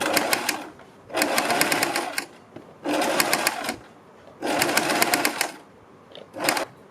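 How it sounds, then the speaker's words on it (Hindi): A sewing machine stitches a fabric strip onto the neckline of a suit or kurti. It runs in four loud bursts of rapid, even needle clatter, separated by short pauses, with a brief fifth burst at the end. "इस पर हम सिलाई लगाते चले जाएंगे"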